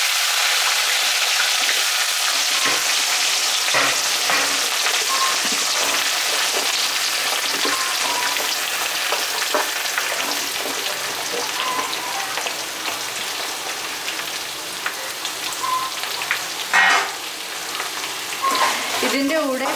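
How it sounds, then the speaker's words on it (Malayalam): Okra, onion, brinjal and green chilli sauté in a hot pan for a Vishu sambar, giving a steady close sizzle and crackle with occasional stirring scrapes and no talk. "വെണ്ടയ്ക്ക, സവാള, വഴുതനങ്ങ, പച്ചമുളക് ഇതൊക്കെ നമ്മൾ വേവിക്കുന്നതിൻ്റെ കൂടെ ഇട്ടല്ല വേവിക്കുന്നത്, അല്ലാതെ വഴറ്റിയെടുക്കുകയാണ്."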